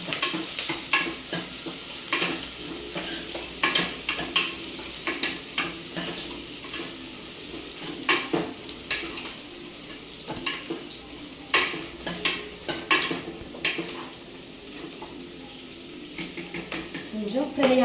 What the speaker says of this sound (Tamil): வெங்காயம் பச்சை மிளகாய் நல்லா வதங்கி சிகப்பு கலரில் வரும்.